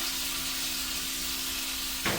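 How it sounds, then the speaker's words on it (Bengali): Paneer fries gently in a pan over a low gas flame, giving a soft, even, continuous sizzle, with a brief scrape at the very end. "সবগুলো পনিরকে একসাথে দিয়ে আমি একটু হালকা ভাজবো"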